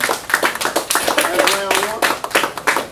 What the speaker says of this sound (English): All right, clap it up, clap it up.